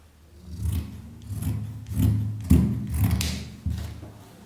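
Scissors cut through fabric for a sleeveless top in short, rasping strokes that come in uneven bursts across a few seconds, close and moderately quiet, with no voices.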